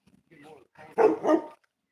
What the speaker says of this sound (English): that's Cater the big dog